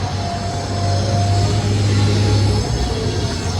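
A metro train runs in a steady, loud rumble with a low droning hum and rolling wheel noise throughout, and no talk over it.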